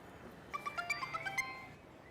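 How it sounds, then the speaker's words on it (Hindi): An electronic phone ringtone chirps in a quick run of short, evenly spaced tones, fairly faint, over a quiet background. "फोन को तो उठाओ, बजे जा रहा है।"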